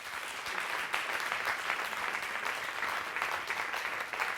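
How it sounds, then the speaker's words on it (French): A studio audience applauds at the close of a live TV music show on France 3 Corse Via Stella. The clapping is steady and continuous but somewhat distant and soft. "Je vous demande d'applaudir encore une fois, s'il vous plaît."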